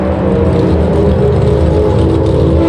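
An NHRA Comp Eliminator Econo dragster launches down the drag strip at the Las Vegas Nationals, a loud, sustained, close engine roar holding steady throughout with no voices.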